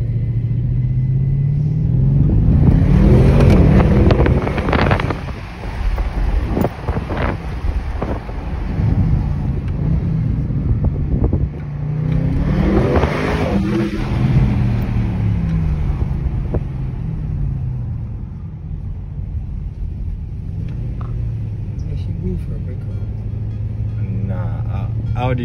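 A 2021 Audi RS6 Avant's engine rumbles loudly from inside the cabin as the car accelerates and drives, with tonal engine sweeps rising and falling and wind noise throughout, while voices talk over it.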